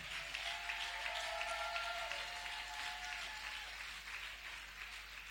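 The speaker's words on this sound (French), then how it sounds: "Est-ce qu'on peut acclamer pour la femme africaine?" A church congregation applauds and cheers during a Sunday thanksgiving service, a steady dense wash of clapping with raised voices that carries on without a break and tapers slightly toward the end.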